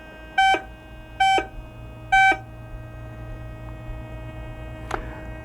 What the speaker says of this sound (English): Whereas if you go over it with targets that are accepted, you will get the high tone.